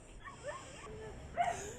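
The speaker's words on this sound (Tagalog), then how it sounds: "Yung may tumatahol na aso." Dogs at home heard faintly in a short burst of yips and whimpering whines, fairly quiet and brief.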